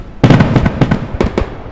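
Firecrackers set off in the farm game Ranch Simulator crackle in a loud rapid burst of sharp pops, close and uneven, with no talk.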